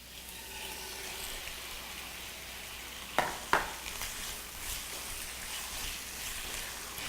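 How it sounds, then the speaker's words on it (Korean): Cuttlefish stir-fry in an oiled pan with a steady, close hiss and crackle of sizzling oil. Two sharp clacks of a utensil against the pan break in midway. "오징어를 볶아 보겠습니다"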